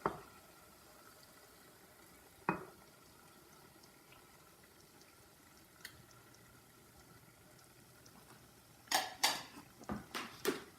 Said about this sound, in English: And I lower the heat and I just gently mix it.